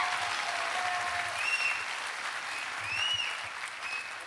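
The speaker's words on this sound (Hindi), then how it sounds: "तालियां होनी चाहिए।" Audience applause in an auditorium during a motivational talk, a faint, steady patter of clapping heard from a distance, with light background voices.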